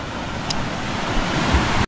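Steady ocean waves at sea surge and wash continuously with a broad roar and some wind rumble, loud and close for a couple of seconds before cutting off.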